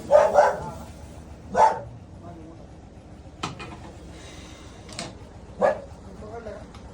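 Dogs bark in short, separate bursts, several loud, sharp barks spread across a few seconds, with quieter yips between them.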